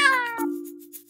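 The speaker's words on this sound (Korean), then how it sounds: "오늘도 여러분들 우리 귀여운 야옹이가 나왔습니다." A cat gives one clear, close meow that rises and then settles into a sustained, falling tone, followed by quiet.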